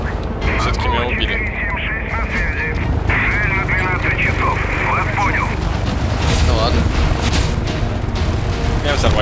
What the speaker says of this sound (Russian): Блэквуд отправили в бой экспериментальный вертолет.